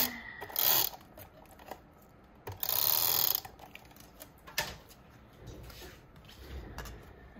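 A glue runner pressed along teal cardstock, giving a few quick, close ratcheting clicks and zips between quieter pauses.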